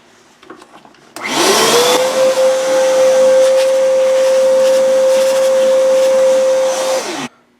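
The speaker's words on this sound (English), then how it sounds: "I want to get down there and I'm going to suck it up with a vacuum cleaner." A vacuum cleaner sucks up leftover bits of broken gear teeth from a motorcycle engine casing, its motor whining up to a steady, loud drone that holds for about six seconds before spinning down, preceded by faint handling noise.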